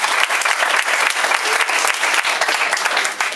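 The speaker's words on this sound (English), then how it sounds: "So give them a round of applause for that." A crowd gives sustained, dense applause for a girls high school volleyball team honored for its first state title, steady and loud throughout with no speech.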